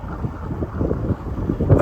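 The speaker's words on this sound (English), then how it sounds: "it's a very windy day" Wind on a blustery day buffeting the microphone, a low, gusty rumble in uneven swells over a couple of seconds, close and fairly loud.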